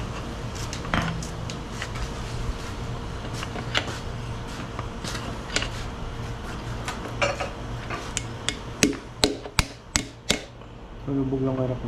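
Metal tapping and clanking while working on a Foton truck, scattered light knocks that build into a run of sharp, evenly spaced hammer strikes, with voices faint in the background.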